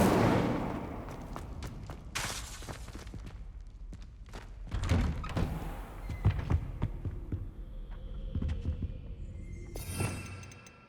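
Spell impacts from Confringo and Incendio in the Hogwarts Legacy video game land as a string of sharp thuds and bursts, some loud and some softer, spread across the stretch with a crackling flare near the end.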